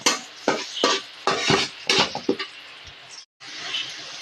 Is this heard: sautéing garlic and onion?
yes